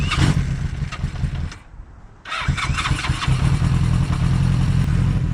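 A cheap used motorcycle engine cranks and catches, drops out briefly, then restarts and settles into a steady, loud warm-up idle close by.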